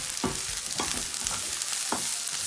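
Spring onion and chili stir-frying with prawns in a hot pan: a constant sizzle broken by several rhythmic scraping stirs of a spatula, close and fairly loud, no speech.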